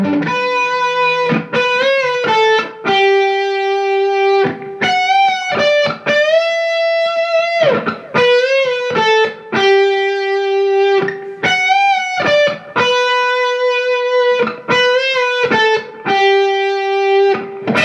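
Melodic 80s rock electric guitar solo with delay, sustained singing notes and slides repeating in phrases, echoes trailing each note, loud and close with no talk.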